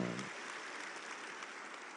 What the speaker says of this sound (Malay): Sebab tepuk tangan yang meriah tadi